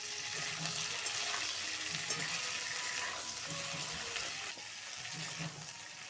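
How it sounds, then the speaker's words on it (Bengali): Flat beans and potatoes frying together in a pan, a soft, fairly quiet sizzle with gentle stirring and occasional low clinks, steady throughout. "সিমগুলো দিয়ে আমি আরও দু থেকে তিন মিনিট ভেজে নেব মিশিয়ে দিচ্ছি আলুর সঙ্গে"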